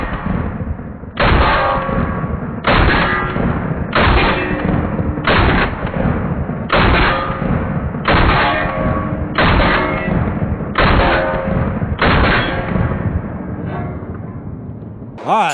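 A Panzer Arms AK Twelve semi-automatic shotgun fires ten rounds of buckshot at a range, each shot a loud, close, booming blast with a ringing tail, evenly paced about every 1.3 seconds.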